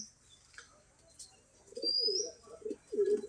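Pigeons coo in soft, low, throaty bursts, a run of rolling calls repeated in the second half, fairly close but quiet, with faint chirps and a brief high whistle in the background.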